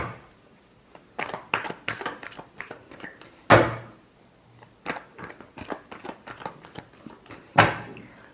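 Tarot cards being shuffled by hand in a series of crisp riffling bursts, with two longer, louder cascading riffles standing out among shorter flicks, close and clear with no talk.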